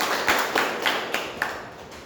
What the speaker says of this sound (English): Huge round of applause for each one of us